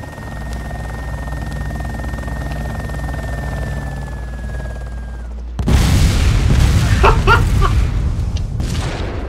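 A helicopter in the DayZ video game drones with a steady low rotor hum and a faint whine, then a sudden louder, rougher roar takes over with sharp bangs mixed in.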